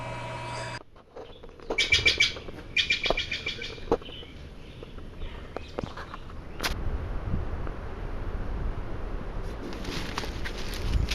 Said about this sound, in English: So here we have a bluebird species.